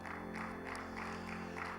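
Steady applause from a congregation at a Bible seminary class fills the room, a continuous wash of clapping at moderate volume with a low hum beneath.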